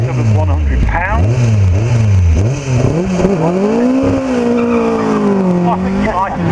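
A 1972 Fisher Alfa Romeo monocoque hill climb race car with a 2 litre Alfa Romeo engine revs hard and changes gears repeatedly at Harewood hill climb, loud and close with sharp rising and falling engine pitch.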